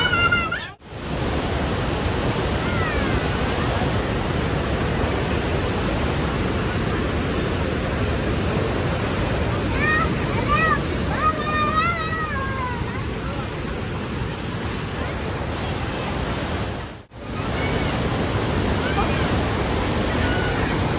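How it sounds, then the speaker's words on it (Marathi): Someshwar waterfall in Nashik, India, roars and rushes steadily close by, with faint voices or chirps briefly surfacing midway through. "हा आपल्या नाशिकचा सोमेश्वर धबधबा आहे"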